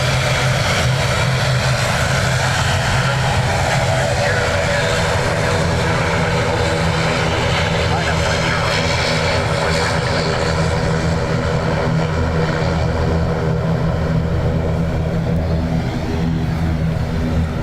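An ATR turboprop airliner at Dublin Airport produces a loud, continuous propeller and engine drone that stays steady and close for the whole stretch, with no voices.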